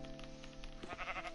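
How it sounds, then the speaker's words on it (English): A sheep in the Minecraft video game bleats, a short wavering cry with a clear tonal quality, heard alone and fairly close. "Sheep."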